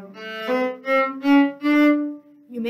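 Cello plays measure 57 of a piece: five bowed notes in a short rhythmic phrase, rich in overtones, close and alone with no voice.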